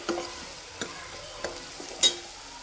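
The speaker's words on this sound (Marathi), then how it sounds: "त्या मिरच्याला आपण भाजून घेणार आहोत" Green chilies frying in hot oil for a tempering, a soft steady sizzle broken by a few sharp spatula taps and scrapes against the pan.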